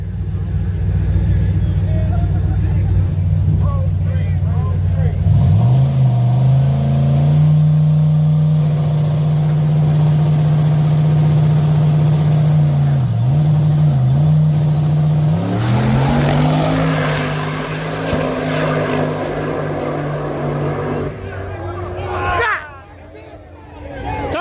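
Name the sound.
truck and Kawasaki ZX-10R motorcycle engines revving for race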